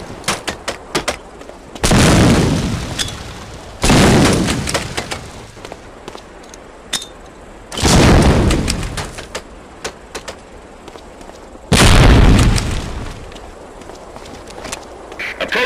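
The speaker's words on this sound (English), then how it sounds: "Throw a grenade into each of the concrete boxes." Grenades explode one after another in Medal of Honor: Allied Assault basic training, four loud, separate booming blasts a few seconds apart, each rolling off into a fading rumble, with sharp clicks and pops between them.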